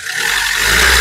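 A 2014 Mahindra XUV500 W6 engine revs on the accelerator, a loud, close roar that swells and holds steady through the short burst.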